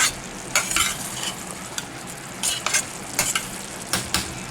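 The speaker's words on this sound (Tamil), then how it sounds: "காளானோட சேர்த்து அது வேகுது." Mushroom thokku frying with coriander powder and spices in a pan, a dense close sizzle broken by repeated scraping strokes of a spoon stirring in irregular bursts.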